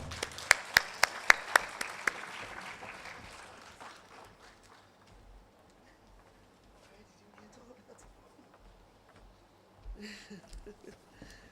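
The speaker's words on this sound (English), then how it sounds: "Kindly welcome her with a hand clap." An audience at an international women judges' conference welcomes a judge with a few loud, sharp claps that swell into applause and fade out. Quiet murmuring and shuffling follow, then a brief renewed stir at the end.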